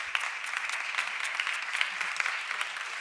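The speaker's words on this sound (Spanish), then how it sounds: "quiero pediros un aplauso para María" Steady audience applause for María fills the room, many hands clapping densely and evenly for about three seconds with no talk over it.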